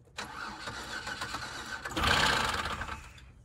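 The flooded Buick Rendezvous engine cranks over with a rapid, rough whirring churn that swells louder toward the end before cutting off, heard close with no talking.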